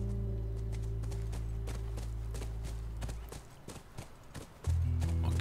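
Horse hooves clip-clop in a steady rhythm in the video game The Last of Us, over a low droning hum, which cuts out and then returns louder near the end.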